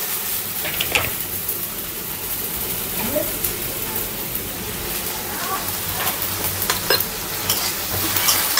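Spice paste fries in a pan while being stirred, a continuous close sizzle broken by scraping strokes of the spoon, with a voice briefly under it.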